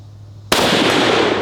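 A single sharp, loud gunshot bursts out after a brief quiet, followed by a lingering ringing decay.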